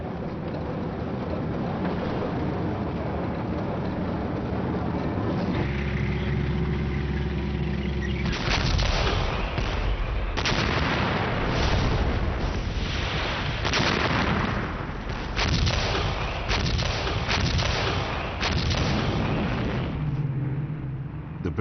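Battle sounds from the World War II fight for Arnhem, with heavy gunfire and artillery: low rumbling blasts, then a rapid sequence of loud, sharp bursts with mechanical engine noise underneath, dense and continuous throughout.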